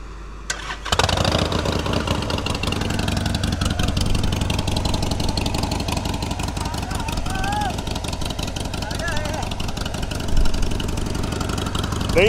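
A Harley-Davidson Iron 883 motorcycle cranks and fires up, then settles into a loud, close, steady idle with a rapid uneven throb and a brief rise in volume near the end, while someone talks over it.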